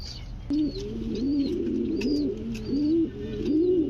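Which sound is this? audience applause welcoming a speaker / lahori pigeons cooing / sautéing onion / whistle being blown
lahori pigeons cooing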